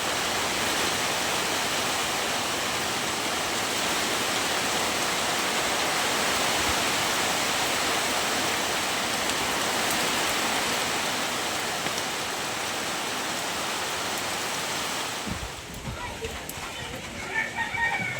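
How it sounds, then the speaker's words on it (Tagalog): Heavy rain pours steadily with gusting wind on an island, a dense unbroken roar that fills the scene for most of the stretch before easing slightly near the end. "lakas pa rin ang hangin at saka ulan"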